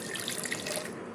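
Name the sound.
water being poured while making leaf-wrapped rice cake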